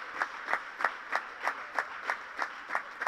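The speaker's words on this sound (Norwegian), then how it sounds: "Och klappa för dem." An audience claps together in a steady, even rhythm, about three beats per second, sounding moderately close with no talk over it.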